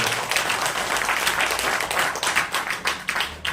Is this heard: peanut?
no